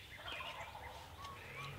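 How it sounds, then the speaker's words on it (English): Wild turkeys gobble in the Iowa woods during a spring hunt, several faint rattling calls from different distances overlapping against quiet outdoor ambience. "We've got turkey firing off all around us."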